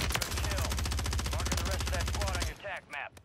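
Rapid automatic fire from an STB 556 assault rifle in Warzone, a dense, loud, steady burst lasting over two seconds that then cuts off, followed by a few faint scattered sounds.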